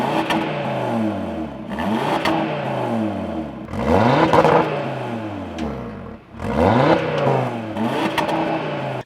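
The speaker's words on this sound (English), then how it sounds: "here's what this exhaust sounds like in its quiet mode and then in its most loud mode" An Audi RS Q3 bimodal exhaust revs repeatedly, first in its quieter mode and then louder and rawer, with rising and falling engine sweeps close by.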